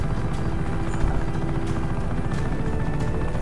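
Combat helicopter in the video game Just Cause 3, its rotor chopping steadily and loudly throughout under a constant engine drone.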